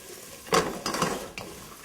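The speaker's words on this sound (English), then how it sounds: "You can see we have some really nice bubbles going with our chestnuts and our ginger and garlic now." Chestnuts with ginger and garlic bubble and sizzle in a pot on the stove, broken by a few brief clanks and scrapes of a utensil against the pan, fairly close and without talk.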